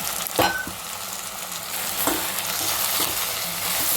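Cucumber, tomato and okra pieces cooking in a pot for a mixed vegetable pulusu, a constant close sizzle with a few distinct scraping stirs of a spoon through the vegetables.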